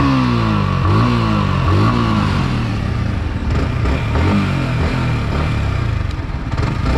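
A Yamaha R15 V4 2021 sport motorcycle engine revs hard from close by. The throttle blips rise and fall in repeated sweeps, with a steady mechanical rumble underneath and no talking.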